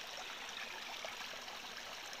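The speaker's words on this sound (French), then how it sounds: "Et vous voyez l'eau là-bas, elle jaillit du sol" Water gushing up out of the ground in an outdoor spot, a steady broadband rush and bubbling that holds even and fairly faint throughout, with no voices.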